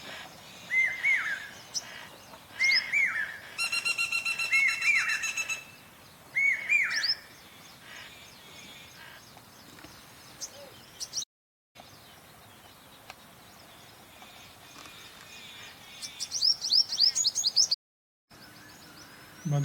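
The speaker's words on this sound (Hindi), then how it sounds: "पर यह है एक पक्षी" A small bird chirps outdoors in short, quick bursts of high twitters separated by pauses, fairly faint over a soft ambient background, with another burst of chirps near the end.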